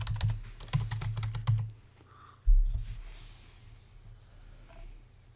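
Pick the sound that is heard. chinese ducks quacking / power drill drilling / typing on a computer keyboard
typing on a computer keyboard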